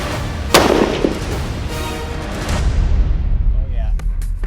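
A sniper rifle fires once, loud and close, a sharp crack with a lingering rumble, followed by fainter distant echoes as the round travels downrange.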